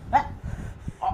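Dogs bark in two short, sharp yelps about a second apart, fairly close, over a low murmur of background noise.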